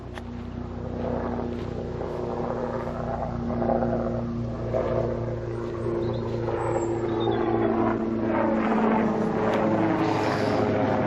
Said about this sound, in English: Got a noisy aeroplane.